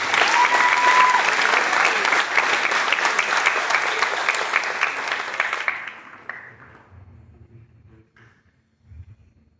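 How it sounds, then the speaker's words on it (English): A crowd at a high school letter-of-intent signing for Penn State breaks into loud, dense applause that holds for several seconds, then quickly thins and fades into near silence with a few faint stray sounds. "let's give Omari Evans a round of applause"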